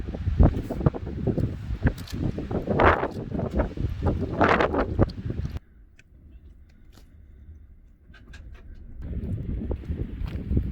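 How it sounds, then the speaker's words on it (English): Strong wind gusts after a storm at a campsite in southeastern Idaho near Craters of the Moon lava fields, loud broadband buffeting with a brief lull midway before the gusts pick up again. "It's still pretty windy."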